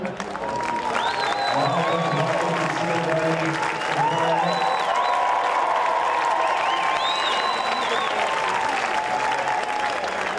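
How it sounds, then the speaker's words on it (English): A large crowd at a high school baseball state championship game at Dozer Park applauds the grounds crew, sustained clapping and cheering filling the ballpark with a public-address voice and ringing tones over it. "One big round of applause for the Dozer Park Grounds crew."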